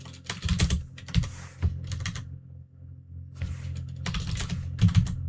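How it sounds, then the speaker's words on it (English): Loud computer keyboard typing, close clattering keystrokes in quick bursts with short pauses between runs, over a faint low fan hum. "You're either gonna have to listen to very loud keyboard sounds."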